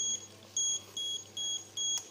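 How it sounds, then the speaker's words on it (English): An Arduino water level controller's buzzer gives five short, evenly spaced electronic beeps over about two seconds, clean and fairly loud against a quiet background. "After three beep sounds,"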